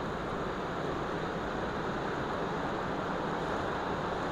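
Steady, broad roar of ocean surf at Indian Beach, continuous and fairly loud, with wind noise mixed in and no voices.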